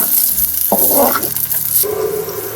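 Garlic, curry leaves and shallots fry in hot oil in a pan for a capsicum curry, giving a loud, steady sizzle with stirring scrapes and bursts as ingredients go in, with no talking.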